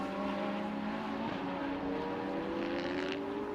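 A race car's engine drones steadily from an onboard position during a circuit race at Valencia, a continuous, loud, high-revving tone with slight pitch shifts as it holds speed, no talk.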